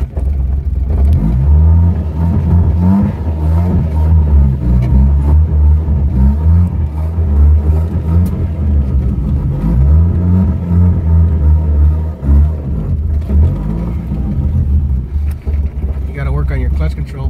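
A car engine revs and drops as the driver works the clutch, a loud droning rumble rising and falling in repeated swells while people talk over it inside the car.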